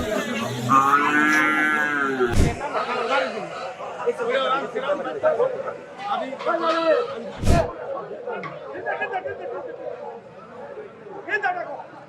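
A cow at Joypara haat, a busy livestock market, gives one long, loud moo near the start. Crowd chatter and people talking nearby continue throughout, with a couple of sharp knocks.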